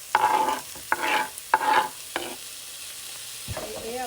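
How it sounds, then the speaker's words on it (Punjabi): Chopped onions, finely cut chillies and tomatoes fry with salt in a pan, a steady sizzle broken by several loud bursts of stirring and scraping, close and without voices. "ਨਮਕ ਪਾਉਣ ਦੇ ਨਾਲ ਪਿਆਜ਼ ਜਲਦੀ ਭੁੱਜ ਜਾਂਦੇ ਨੇ"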